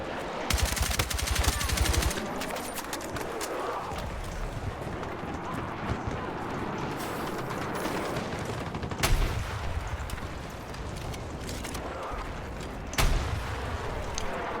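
Rapid automatic gunfire and bursts of shots from a Battlefield 6 multiplayer match, loud and dense with sharp cracks, continuing throughout amid battle noise.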